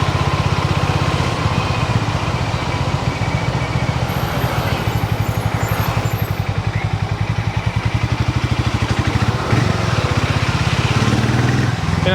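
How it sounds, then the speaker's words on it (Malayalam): A Hero Mavrick 440 motorcycle engine runs steadily nearby, a loud, even, pulsing thump with a continuous mechanical drone throughout. "പിന്നെ കണ്ടോ, നല്ല ടോർക്കി എഞ്ചിനാണ്."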